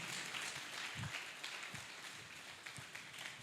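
Faint, distant clapping from a conference audience at a relaunch event, a soft continuous patter with a few sharper claps standing out.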